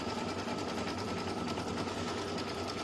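Sewing machine stitching athletic knit fabric for a stuffed toy, a steady close whirring hum that runs unbroken and loud throughout.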